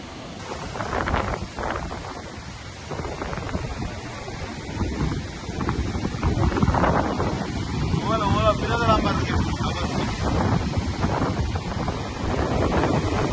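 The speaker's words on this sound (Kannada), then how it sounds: "ಏಕಾಏಕಿ ದೊಡ್ಡ ದೊಡ್ಡ ಅಲೆಗಳು ಸಮುದ್ರ ತೀರಕ್ಕೆ ಅಪ್ಪಳಿಸುತ್ತಿದೆ" Rough sea surges and crashes onto the shore at Kapu, a continuous loud roar of breaking waves mixed with strong wind buffeting the microphone, while voices are faintly heard.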